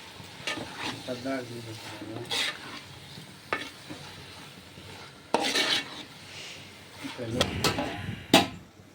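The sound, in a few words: stirring prawn and gongura curry with a ladle in a pot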